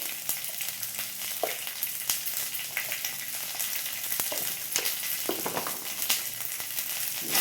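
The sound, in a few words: frying spices in oil in a pan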